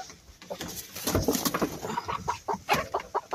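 A Leghorn hen cackling after laying an egg, loud repeated clucks and squawks in an uneven burst close by, with other poultry sounding around it.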